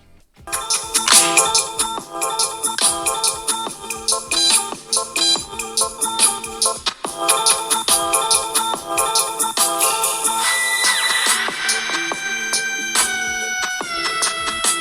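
Music plays from the dual speakers of a Samsung Galaxy Fold 3 phone, a bright, busy track with a steady beat that stays loud and continuous throughout.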